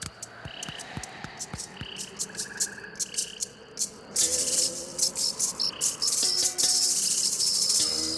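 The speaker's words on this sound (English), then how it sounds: "Oh, it's just a cricket." Cricket chirping at night outside a window, a rapid repeated trilling in short bursts that grows louder and denser partway through, with frog-like croaks mixed in and no voices.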